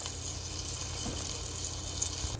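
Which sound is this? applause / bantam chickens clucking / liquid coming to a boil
liquid coming to a boil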